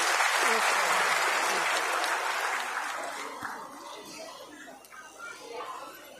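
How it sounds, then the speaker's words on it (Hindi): A crowd at a women's conference in Panchkula claps loudly to welcome Upendra ji onto the stage. The applause is full at first, then thins and fades away over a few seconds. "जोरदार तालियों से उपेंद्र जी का हम"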